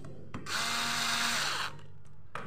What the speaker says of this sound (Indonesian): setelah sudah masuk, kita kencangkan baut di bagian leher